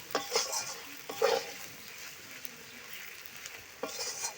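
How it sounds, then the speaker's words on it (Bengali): Turmeric gets stirred into a sizzling pan during mango and fish cooking, a soft hiss of frying with a few brief spatula scrapes, fairly quiet and close, without talk. "এক চামচ হলুদ দিয়ে দেবো এইভাবে একটু নেড়ে চেড়ে জল দিয়ে দেব"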